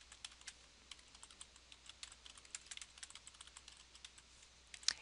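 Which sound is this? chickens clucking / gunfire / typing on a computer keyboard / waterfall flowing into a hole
typing on a computer keyboard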